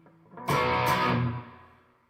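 A single loud, distorted belch swells with heavy reverb, then rings out and decays over about a second into silence.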